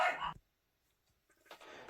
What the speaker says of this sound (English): The dogs must have heard a possum outside.